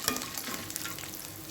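Steady sizzle of chana dal, urad dal and peanuts frying in a pan, with light stirring scrapes near the start, close and soft, with no talking.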